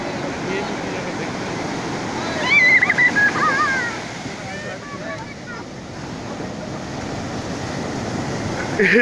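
Ocean surf rolls and breaks on Puri beach, a steady wash of waves with a louder crash swelling midway, mixed with wind buffeting the microphone and excited voices talking over it.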